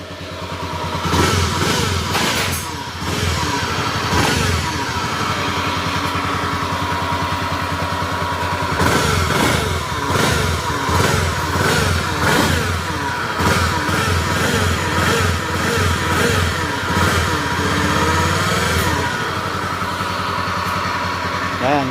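A Honda Beat FI scooter engine revs repeatedly, loud and close, with a raspy, booming, resonant exhaust note and a clattery idle between the throttle bursts.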